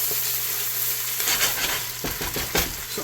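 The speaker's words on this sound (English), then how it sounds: "So I'm going to go ahead and just let this fry for a couple more minutes" Onions and poblano peppers fry loudly in a pan, a dense close sizzle broken by bursts of stirring and the scrape of a utensil against the pan.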